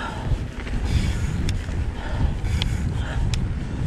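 A headwind roars steadily into the microphone during a mountain bike ride on the Helderberg trails in South Africa, a loud rumbling buffet with faint clicks and rattles from the bike.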